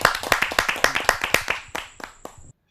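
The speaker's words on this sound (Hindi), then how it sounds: "आइए जोरदार तालियों से स्वागत करते हैं।" Audience at a Hindi kavi sammelan poetry gathering clapping to welcome a poet from Bilaspur, a short burst of close, distinct hand claps that thins out and stops after about two and a half seconds.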